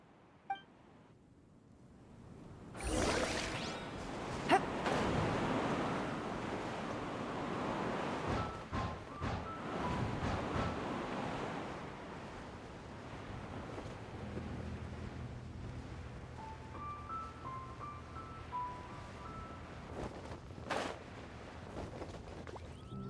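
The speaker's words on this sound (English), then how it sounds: "What a strong wind current." A strong wind current in the Genshin Impact video game: a loud rushing gust surges in after a quiet start, then settles into a steady airy whoosh, with light chiming game tones near the end.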